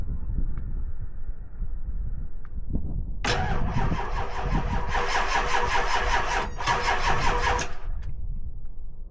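Diesel truck engines, a 5.9 and a 7.3, cold starting: a low rumble gives way to a loud crank that catches around three seconds in and settles into a steady, clattering idle close by.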